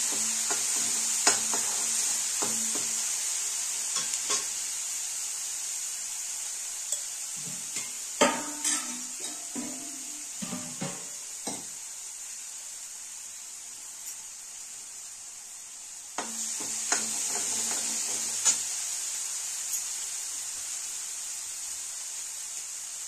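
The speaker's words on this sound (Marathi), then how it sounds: "मसाला चांगला जरा तेल सुटेपर्यंत भाजायचा बघा" Masala roasting in oil for a mutton curry, a constant bright hiss of frying with bursts of a spatula stirring and scraping against the pan at intervals, close and with no talking.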